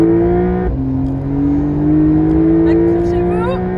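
A Porsche sports car brakes hard during a test, with steady engine drone and a brief tire squeal as it slows, heard close up from inside the car under a voice.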